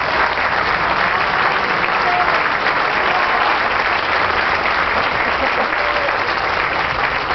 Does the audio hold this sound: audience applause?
yes